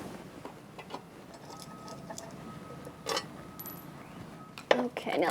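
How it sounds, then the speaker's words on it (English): Small metal screws being backed out of a door threshold with clicking, scraping turns and a few brief clinks, the loudest bursts near the end, heard close up in a quiet room. "this is as simple as taking up these 4 screws."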